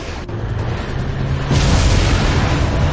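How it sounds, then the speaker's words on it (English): A loud explosion in the Resident Evil 4 video game, a dense roaring blast that swells midway and sustains as a heavy rumble to the end. "Explosion was absolutely necessary."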